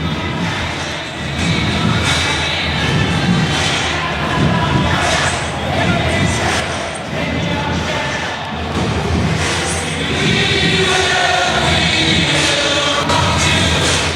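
Home crowd at a night college football game in Tuscaloosa, Alabama hosting Southern Miss, a loud sustained roar of many voices swelling and dipping in waves, with occasional thumps.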